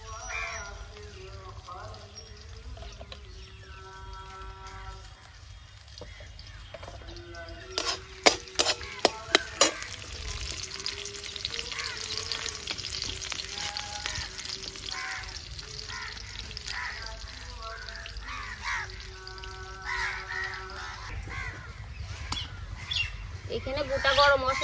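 Chopped onions frying in oil in a pan for a Bengali prawn malai curry, a steady close sizzle with stirring clatter and scraping, and birds chirping in the background.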